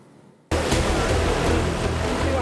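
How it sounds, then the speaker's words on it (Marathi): Floodwater of the overflowing Kayadhu river in Hingoli after heavy rain, a loud steady roar of rushing water that bursts in abruptly after a quiet start and stays dense and continuous. "हिंगोलीमध्ये पुरामुळे कयाधू नदी ओव्हरफ्लो झाले."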